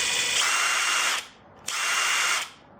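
A Masterforce brushless impact driver runs in two bursts of about a second each, a loud high whine with a short pause between them.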